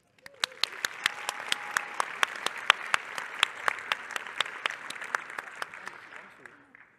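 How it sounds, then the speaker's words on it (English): A conference audience claps in a sustained round of applause, dense and even with a few sharp nearby claps standing out, holding steady for several seconds before tapering off at the end. "we give them just another round of applause"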